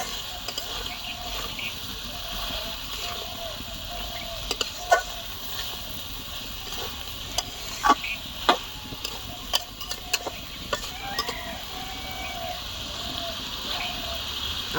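Chicken meat sizzling in a hot pan: a steady, low hiss runs throughout, broken by scattered sharp clicks and scrapes from stirring.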